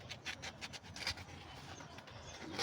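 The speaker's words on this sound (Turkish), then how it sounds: "Biraz daha zımparalıyor alıyor babam." Wood is sanded by hand with sandpaper in rhythmic, close rasping strokes, quiet overall, repeating steadily with short pauses.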